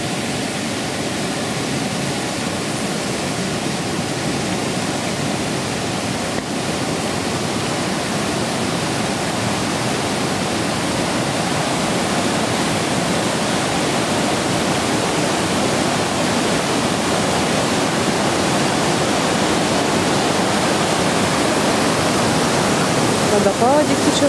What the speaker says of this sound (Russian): Водопадик течет какой-то.